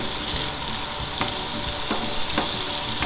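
Garlic frying in butter over lowered heat in a pan where beef was seared, a steady soft sizzle with a few light stirring clicks, close and alone.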